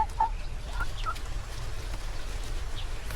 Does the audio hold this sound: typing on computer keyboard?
no